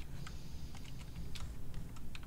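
Someone types steadily on a computer keyboard, rapid uneven key clicks over a low background hum, close and fairly quiet with no talk.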